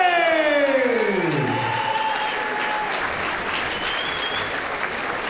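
Crowd at a fight event applauding and cheering for two fighters, a dense wash of clapping that holds steady throughout, with a descending whoosh effect over the first seconds.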